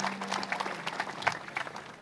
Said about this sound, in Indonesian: Tepuk tangan buat Tio.